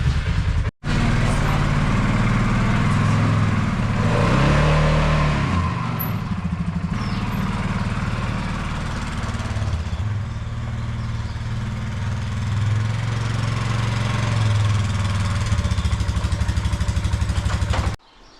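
A four-wheeler ATV engine runs steadily at a low, rumbling idle, loud and close, with a slight rise in revs partway through and a brief cut near the start.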